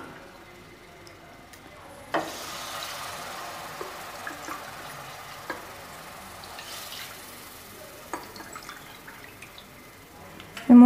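Water poured into a pan of jaggery to dissolve it while making Thiruvathirai kali, a steady close sloshing and trickling with a few sharp clinks, with no talk.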